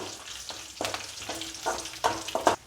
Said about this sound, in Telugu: ఈ తాలింపు మొత్తాన్ని మంచిగా ఫ్రై చేసుకోవాలి